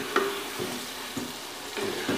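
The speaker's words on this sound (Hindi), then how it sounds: "शामिल करेंगे दही, अच्छे से इसको मिक्स कर दें।" Beef karahi with yogurt being stirred in a pan, a few soft scraping strokes spaced out over a low steady sizzle, close and moderately quiet.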